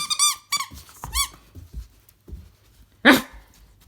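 A person imitates a dog with a few short, high barking yelps during play with a nine-week-old puppy, followed by quiet sounds and a sharp, loud bark near the end.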